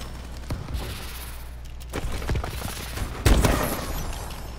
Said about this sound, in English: There's a good sniper shot.